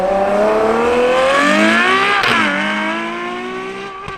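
Ferrari 812 Superfast V12 accelerating hard on the Fiorano track, a loud high-pitched engine wail climbing through the revs, a brief break at a gear change, then climbing again and fading slightly at the end.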